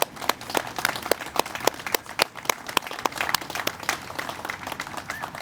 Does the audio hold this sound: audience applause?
yes